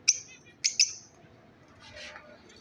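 Pet albino black-eye birds at home give three sharp, high chirps close by, followed by a softer faint call, with no talk.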